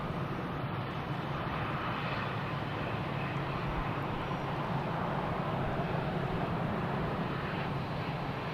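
A plane lands at Boston Logan Airport with a steady, loud, broad jet roar that holds evenly for the whole stretch and has no voices over it.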